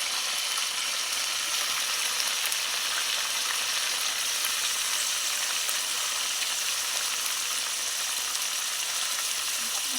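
Brinjal pieces frying in hot tempering oil and being stirred, giving a steady, close sizzle with faint scraping that holds evenly throughout, no talking.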